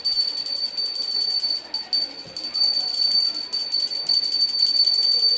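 A small bell hangs on a dog standing up on its hind legs, ringing in a high, bright, near-continuous tone with a few brief breaks and no talk.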